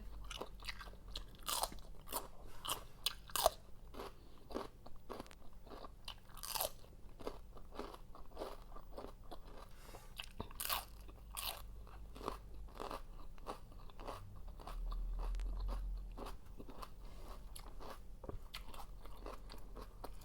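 Close, crisp crunching bites and chewing of a Thai papaya salad with chicken feet come in irregular sharp bursts over a quiet background, with no speech throughout.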